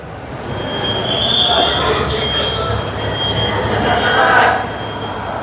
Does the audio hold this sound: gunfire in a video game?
no